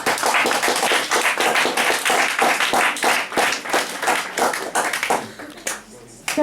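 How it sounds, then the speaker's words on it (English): An audience at a spoken word poetry event claps and applauds for a poet stepping up, a dense, loud round of clapping that tapers off near the end, with a host's voice over it. "Can you give him a round of applause?"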